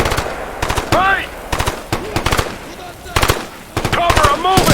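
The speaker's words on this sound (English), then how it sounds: "Guns sound great, and explosions look and sound awesome." Rapid automatic gunfire bursts from the Ghost Recon Future Soldier video game, loud and close, broken into several rattling volleys with shouted combat callouts in between.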